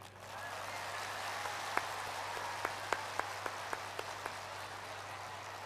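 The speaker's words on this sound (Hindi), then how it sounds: "आप लोग एक ताली अपने लिए बजाएं" An audience at a spiritual peace talk in Gangtok applauds in a steady, soft wash of clapping heard from a distance, with a few sharper individual claps standing out near the end.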